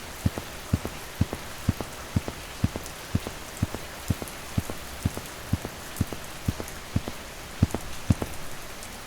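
Heavy rain falls steadily with a dense hiss, punctuated by regular sharp drip or tapping hits in a continuous pattern, with no voices.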